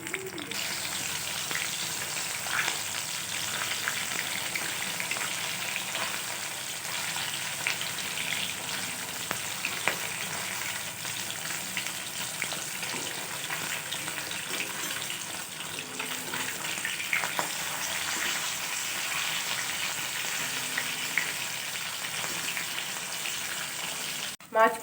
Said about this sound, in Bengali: এরপর এগুলো আমি ভালোভাবে উল্টিয়ে উল্টিয়ে ভেজে নেব।